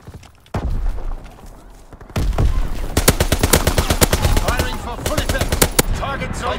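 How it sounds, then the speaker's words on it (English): Gunfire and artillery in the World War II video game Call of Duty: WWII, with a loud, dense stretch of rapid automatic fire and heavy booms over a constant rumbling battle background. "Attack! Firing for full effect!"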